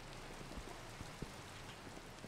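Steady rainfall during a thunderstorm in Minecraft, soft and faint, with a constant patter and a few scattered louder drops.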